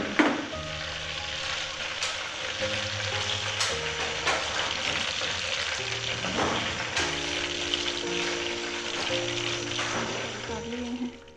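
Kofta balls frying in hot oil give a steady, close sizzle that runs the whole time beneath soft background music.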